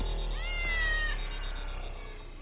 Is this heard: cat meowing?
yes